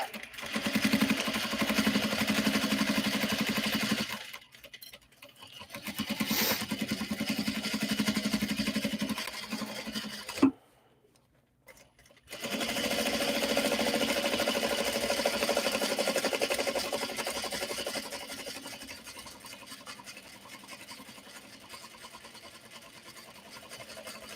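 A sewing machine runs steadily while top stitching around the edge of a clutch wallet made from obi and kimono fabric, with a pause near the middle and a brief stop before it resumes for a long continuous run.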